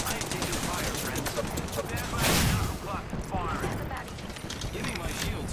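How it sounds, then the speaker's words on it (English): Apex Legends firefight with rapid bursts of automatic gunfire and mechanical weapon clatter, loud and continuous, with a voice talking over the shooting. "I am taking fire, friends."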